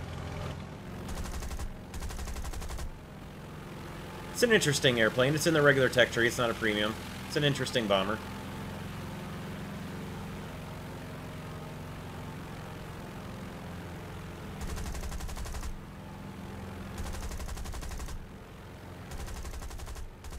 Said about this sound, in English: there are 4 machine guns, 2 outboard in each wing